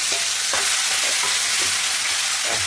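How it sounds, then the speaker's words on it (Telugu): Tempering spices hit hot oil in a pan on low flame while making a bitter gourd chutney, giving a loud, steady sizzle and crackle broken by repeated stirring scrapes, with no talking. "దాంట్లో వేయగానే గుమ్మలాడుతుంది."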